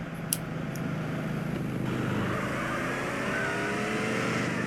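Car engine in the video game GTA San Andreas, a steady droning hum rising in pitch as the car accelerates along a street, with no talking.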